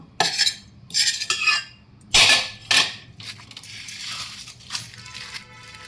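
A metal spoon scrapes and taps against a tray while a sweet mixture is spread flat, producing bursts of clinking and scraping with short pauses between strokes.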